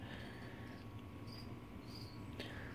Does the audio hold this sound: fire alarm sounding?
no